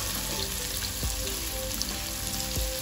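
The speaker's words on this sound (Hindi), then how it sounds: "लहसुन, मेरे बारीक काटा हुआ था, इसको ऐसा डालेंगे, और इसको डालते ही हम लोग डालेंगे प्याज" Finely chopped garlic and onion fry in a pan for a chicken pasta, with a close, steady sizzle and occasional clacks of stirring.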